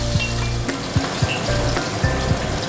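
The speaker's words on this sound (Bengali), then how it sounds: "আর ইলিশ মাছ তো বেশি ভাজতে নেই, এই হালকা হালকা করে উল্টে পাল্টে ভেজে নেব।" Hilsa fish pieces frying in hot oil in a pan, a steady close sizzle throughout with a few light knocks as the fish is turned, no voices.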